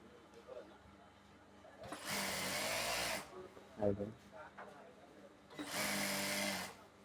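A sewing machine sews the elastic waistband of palazzo pants in two separate bursts of about a second each. Quiet handling noise and brief sounds fall between the bursts.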